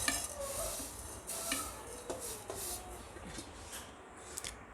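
Vermicelli roasting in ghee in a pan over a low flame, stirred with a spoon, giving faint repeated scraping and soft clinks over a gentle continuous sizzle.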